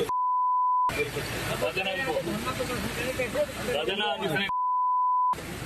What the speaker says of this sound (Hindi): इन महानुभाव के शब्दों के कचरे को हमें बीप की चादर से ढकना पड़ा